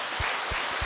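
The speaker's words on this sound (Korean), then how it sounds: "박수 받겠습니다" A dense wash of audience clapping fills a Buddhist dharma talk hall, steady and even throughout, with soft low thumps recurring beneath it.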